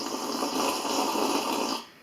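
A sip of coffee is taken with a long, airy slurp, a steady breathy rush lasting under two seconds before fading out, close and alone.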